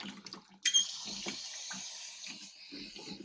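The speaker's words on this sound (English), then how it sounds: "Now I'll rinse it one more time if you drop it in the dirty water." A Uni foam air filter being rinsed in water: a sudden splash, then a steady watery hiss and trickle as it is swished about.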